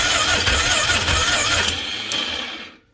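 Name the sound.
Polaris Magnum 330 ATV engine weakly cranking on weak battery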